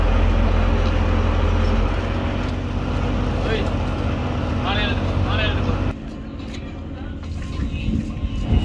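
A fishing boat's engine running at sea on a deep-sea fishing trip, a loud steady low drone that drops in level partway through, with someone talking over it.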